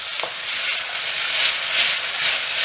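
A peri-peri vegetable stir fry sizzles loudly in a hot pan while being stirred, giving a continuous close hiss that rises and falls gently, with one faint scrape near the start.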